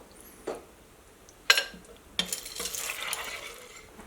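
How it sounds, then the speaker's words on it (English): Elbow macaroni being stirred into cooked ground beef in a slow cooker, a few sharp spoon scrapes and clinks followed by a soft, continuous moist stirring rustle, close and fairly quiet. "I'll add 1 cup and stir that in."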